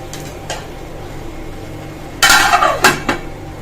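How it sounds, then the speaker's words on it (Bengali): A lid is set on a cooking pot of bamboo shoot fry, giving a couple of sharp metallic clanks and rattles close by after quiet kitchen background, with no talking. "ঢাকনা দিয়ে ঢেকে রাখবো"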